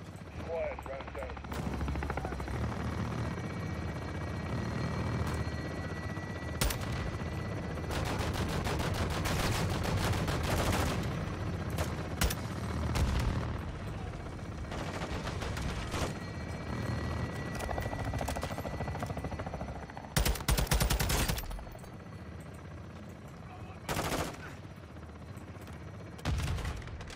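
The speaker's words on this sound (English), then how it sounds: "I'm trying to shoot through the window" Gunfire in the 2022 Modern Warfare 2 campaign, shots aimed through a window: dense, loud bursts of automatic fire and heavy booms over a steady rumbling, helicopter-like drone, with voices talking throughout.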